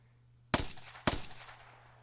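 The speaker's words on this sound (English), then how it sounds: "And then more gunshots." Two sharp gunshots in the Steins;Gate 0 video game sound about half a second apart, each a sudden crack with a short decaying tail over quiet background.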